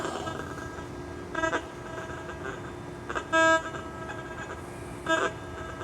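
A Garrett MX Sport metal detector gives short, faint tones in a few separate bursts over a quarter, set against steady background hiss.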